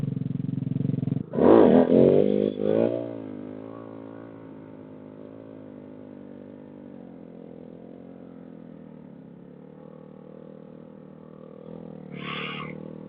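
A motorcycle engine blips loudly as the front lifts into an idle wheelie, then settles into a steady low idle throb for a long stretch, with a brief rev near the end.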